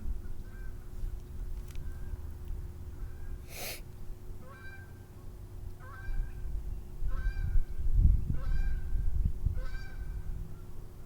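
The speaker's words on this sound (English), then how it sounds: "there are lots of geese and peacocks in this park. so they're making a lot of noise." Geese and peacocks call in a park at the start of spring, with a series of repeated honking cries spaced across the stretch, moderately near and loud above a steady low outdoor rumble, with no talking.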